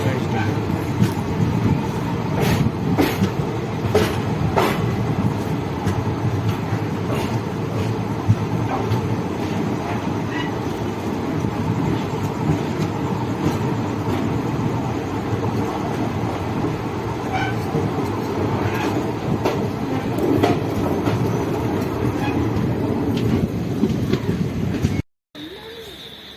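The Prashanthi Nilayam express, train 17603, rolls along the rails with a steady, loud rumble and a faint rhythmic clickety-clack that runs without a break, then drops out abruptly near the end.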